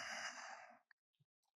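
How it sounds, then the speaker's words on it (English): A single long, breathy exhale of ujjayi yogic breath, drawn through a constricted throat with a hollow seashell-like, near-snoring rasp, close and soft, fading into a few small mouth clicks. "this is a yogic breath where it sounds like a seashell, almost like you're going to snore"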